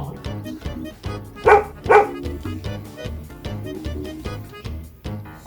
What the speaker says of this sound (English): That is the sound of the dog.